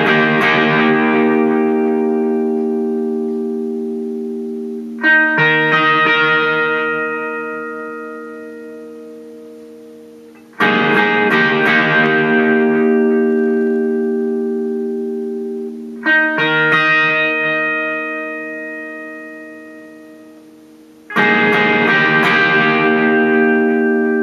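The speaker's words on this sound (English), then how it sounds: "And the electric part over the outro sounds like this." Electric guitar outro part played through effects, with four long distorted chords each ringing out and slowly decaying before the next strike, carrying heavy reverb and a chorus-like shimmer.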